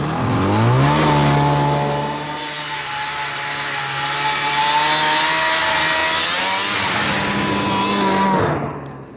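An old snowmobile engine revs hard as the sled busts out of the ice, a loud, close, rising and then sustained buzzing drone that cuts off near the end.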